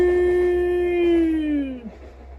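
A passing train sounds a loud, close horn near an allotment: one steady harmonic blast of about two seconds that slides down in pitch as it goes by, then cuts off.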